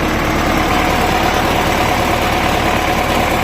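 A tractor engine idles after ploughing, a loud, steady, low rumble with constant vibration and no change in pace or other sounds on top.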